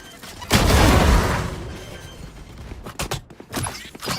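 A grenade blows up in the shooter game Valorant: a loud, sudden blast with a long rumbling decay, followed by sharp clicks and smaller impacts.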